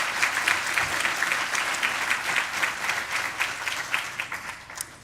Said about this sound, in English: So let's give them all a really big round of applause.